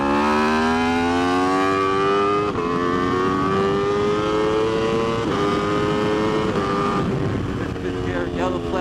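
An Aprilia RSV4 RF superbike on a racetrack blips its engine through downshifts, a loud, close, high-pitched wail whose pitch steps and jumps with each gear change, sustained without a break.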